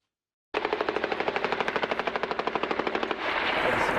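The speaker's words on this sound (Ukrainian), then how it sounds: "Ще тільки на сутині, а бойовики вже активно б'ють з кулеметів." Machine gun fire near Avdiivka in eastern Ukraine: a long sustained burst of rapid, evenly spaced shots, loud and fairly close, giving way to a rougher continuous roar near the end, with no talk.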